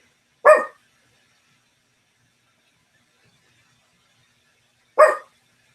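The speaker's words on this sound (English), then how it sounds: "dogs are excited." Excited dogs bark twice, each bark a single sharp and close sound about four and a half seconds apart, with near silence between them.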